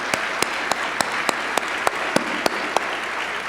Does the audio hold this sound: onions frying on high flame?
no